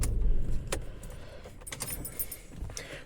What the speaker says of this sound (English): let me turn the car off first